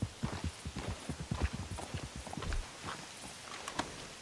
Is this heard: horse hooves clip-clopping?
yes